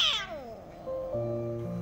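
Two adult cats fighting at an outdoor base, with a loud rising yowl and caterwauling that slides into sustained, harmonic meows, close and clear with no talking.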